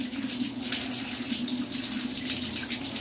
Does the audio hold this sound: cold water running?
yes